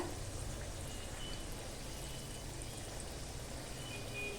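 Sweet cucumber vade frying in hot oil, a steady soft sizzle and bubbling heard close and low in level, continuous throughout with no talking.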